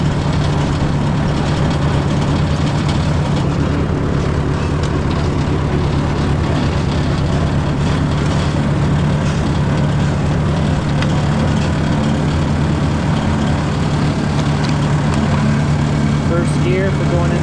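A Ford 641 Workmaster tractor with a 6 volt system runs on a freezing snow day, a steady low engine hum with a deep droning tone, close, while someone talks over it.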